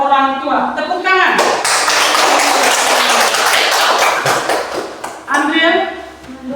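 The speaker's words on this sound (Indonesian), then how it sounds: "Tepuk tangan." A group of people clap their hands together in a burst of brisk applause lasting several seconds, loud and close, with sung or spoken voices before and after it.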